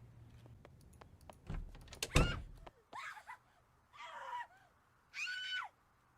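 In the zombie survival game Project Zomboid, a distant scream event rings out as several separate strained cries with pauses between them, after a louder burst of clattering noise, faint and alone without talk.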